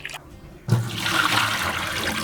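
Water from a kitchen tap runs steadily as leafy vegetables are rinsed, a hiss that begins abruptly after a short quieter lead-in and keeps going at an even level.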